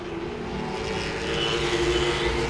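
Late model race cars circling Langley Speedway, a continuous engine roar that swells and builds slightly toward the end, heard from a moderate distance without talking.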